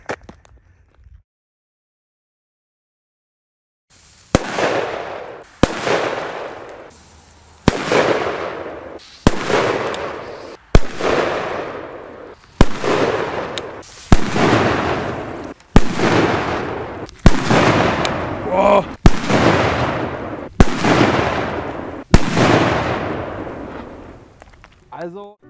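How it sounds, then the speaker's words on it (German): Polish firecrackers, including Big Bang, Dumbum and Viper types, go off in a rapid series of about a dozen loud, sharp bangs, each followed by a rolling echo, after a few seconds of near silence. "für mich ist ganz klar hier der Gewinner, die neuen Big Bang Böller"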